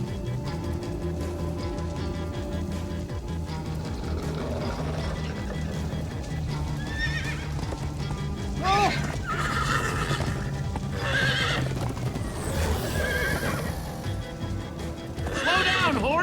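Horses in the Minecraft: Story Mode video game whinny in several shrill neighs over steady clip-clopping hooves at a gallop, with voices talking at times amid a rumbling, busy game soundtrack.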